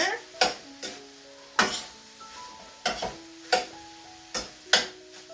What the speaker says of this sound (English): Okay, so give this a little bit more stir.